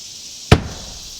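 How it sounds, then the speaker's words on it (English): A single sharp hammer strike lands once, loud and close, with a quick thud and brief ringing decay against a faint steady background hum. "This is my magic hammer."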